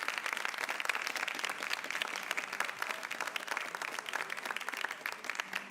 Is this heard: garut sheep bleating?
no